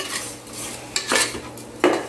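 Spoon scraping and clinking against a pot while turmeric is stirred into a mutton intestine curry, a few quiet metallic strokes with soft stirring in between.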